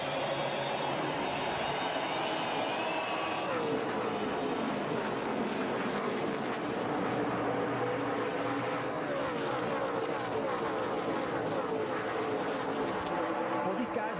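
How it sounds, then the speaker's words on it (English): NASCAR stock cars at the 2007 Ford 400 accelerating on a green flag restart, a dense continuous engine roar filling the whole stretch while a commentator talks over it. "Truex, the 2-car of Busch, and then Jeff Gordon as he takes the green and sail into 1"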